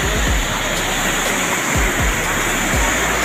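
Heavy water rushes through a canal in Uttar Pradesh, a loud continuous roar close by, with low thumps breaking through the flow.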